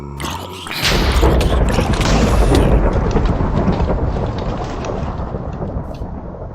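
Lightning summoned from a rod in the Minecraft Biota mod strikes with a sharp crack, then a loud, rolling thunder rumble that slowly fades, rain-like hiss beneath.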